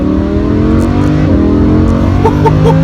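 A Lamborghini Huracan accelerating hard up an on-ramp, its engine roaring loud and close with a steady rising pitch through smooth, uninterrupted gear changes.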